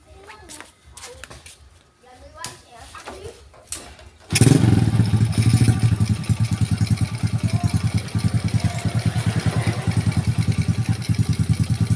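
A motorcycle engine with a newly replaced camshaft and rocker arms starts abruptly after a few seconds of light clicking and handling noises, then settles into a loud, steady, rhythmic idle right up close.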